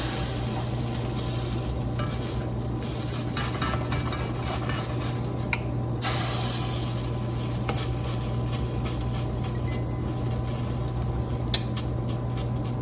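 Cornbread hoecakes frying in a very hot pan, a steady crackling sizzle with a low hum beneath and occasional light scrapes and clinks of a utensil, continuous and close with no talk.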